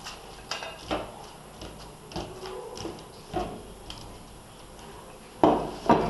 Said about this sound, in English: Mix the fried cauliflowers with the manchurian sauce.